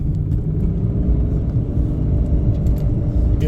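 A vehicle engine fitted with a DiabloSport Trinity 2 EX tuner rumbles loudly and continuously as gas is applied in gear, a deep steady drone close by with no talking.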